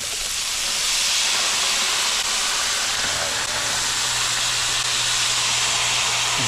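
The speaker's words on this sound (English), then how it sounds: "All right, I'm going to add some wine." Wine poured into a hot pan of chicken, a loud continuous hissing sizzle that fills the whole stretch at close range, steady throughout with a faint low hum joining partway, and no talking.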